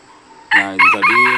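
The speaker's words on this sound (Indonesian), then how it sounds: "itu tadi suara respon dari ayam hutannya" A wild jungle fowl crows close and loud in the forest, one harsh multi-part cock-a-doodle-doo call breaking out of near silence.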